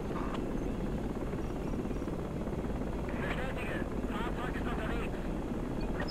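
Helicopter in the military game Project Reality, a constant loud rotor and engine roar that fills the clip, with faint other game noises at times.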